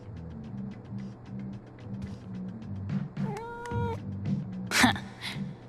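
A cat meows in the video game Life Is Strange: True Colors, one drawn-out cry over a steady game ambience, followed by a sharp louder burst, with no speech.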